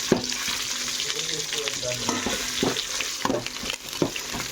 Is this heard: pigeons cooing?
no